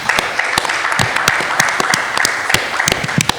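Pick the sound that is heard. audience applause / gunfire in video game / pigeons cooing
audience applause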